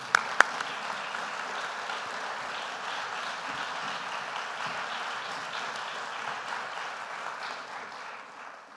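Applause at a 2022 honors convocation: after two sharp claps up front, an audience settles into steady, even clapping, moderately distant, that holds for several seconds and tapers off near the end.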